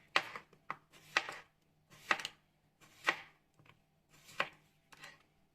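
Knife slicing a cucumber into rounds for a homemade burger, a series of six or seven crisp, close chopping cuts spaced roughly a second apart, with quiet pauses between them.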